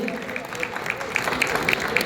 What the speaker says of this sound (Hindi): जोरदार तालियां सम्मान के लिए।